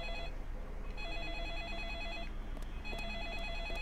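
In the Deadly Premonition video game, a telephone rings in repeated electronic trilling bursts, clear and steady, with short pauses between rings and no talking.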